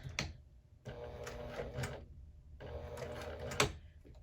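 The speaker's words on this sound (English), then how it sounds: "I'm just going to go ahead and take a few stitches backwards" A sewing machine stitching backwards on a fabric crossbody bag strap, with two steady close bursts of rapid mechanical whirring and needle clatter and a short pause between them.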